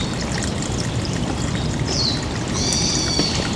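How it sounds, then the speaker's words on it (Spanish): Water flows continuously at a temple in Kyoto, a steady rushing wash with brief high bird chirps over it. "Relajante el sonido del agua, los pajaritos y la carreola"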